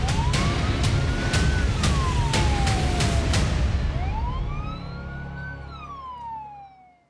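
An ambulance siren wails loudly at the scene of a deadly toll-road crash at KM 58 of the Jakarta–Cikampek toll road, its rising and falling tones plainly heard under heavy road noise and fading near the end.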